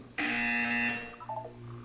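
A loud, harsh electronic buzzer from the video game Portal 2 blares for under a second, then cuts off into a fading, wavering tone and a quiet hum.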